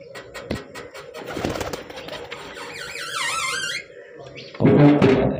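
Pigeon coos and fluttering near the microphone with rooftop bustle during a racing pigeon competition, a warbling whistle-like call in the middle, and loud movement noise at the end.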